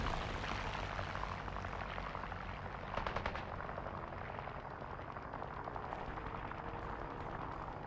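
Propeller airplane engine in the War Thunder combat game, a steady continuous drone lasting throughout, with a brief burst of rapid gunfire midway and faint clicks near the end.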